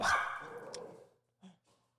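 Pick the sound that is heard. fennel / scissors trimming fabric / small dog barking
small dog barking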